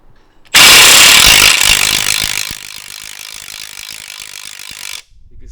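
Rapid ratchet clicking on a spinning transmission bolt of a Honda Civic during AWD engine removal, loud and close: an intense burst that settles into a steadier, quieter run of clicks for several seconds before stopping.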